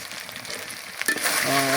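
Pieces of desi chicken sauté in hot oil in a pan with a soft, steady sizzle, a sudden brighter crackle as the meat is stirred, and a faint tonal sound near the end.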